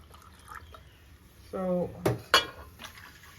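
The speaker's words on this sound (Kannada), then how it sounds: "ಈ ಒಗ್ಗರಣೆ ಆದಮೇಲೆ ಸ್ವಲ್ಪ ನೀರು ಸ್ವಲ್ಪ ಹಾಲು ಹಾಕ್ಕೊಳ್ತಾ ಇದ್ದೀನಿ" Water and milk are poured into a hot tempering for pongal, giving a short splashing, sizzling burst with a couple of sharp pan clinks in an otherwise quiet kitchen.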